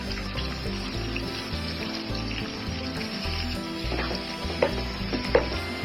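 Green chilies sizzling in hot oil in a pan for a chicken dum biryani, a steady close crackle and hiss with faint stirring clinks and no talk.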